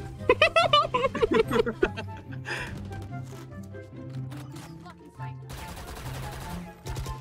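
Video game gunfire crackling in quick shots alongside game music, beginning under a burst of laughing voices and continuing as a rough, steady volley with a noisier spray near the end.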